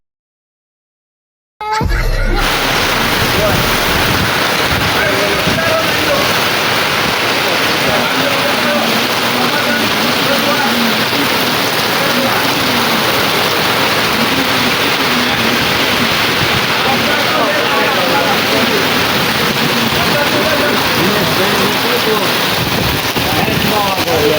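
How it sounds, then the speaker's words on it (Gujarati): Dense, loud roar of heavy monsoon rain starting abruptly after a brief silence, continuous broadband noise with muffled voices underneath. "વરસાદ પુષ્કળ આવી રહ્યો"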